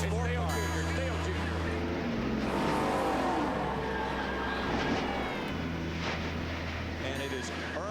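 NASCAR race cars roar around the track in a dense, sustained engine drone with shifting pitch as cars pass, while a commentator talks over the noise.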